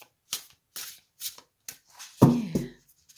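A new, slightly stiff Cosmic Magic Oracle deck is handled and shuffled up close: a string of short, crisp card flicks, then a louder, fuller riffle near the end, with no talking.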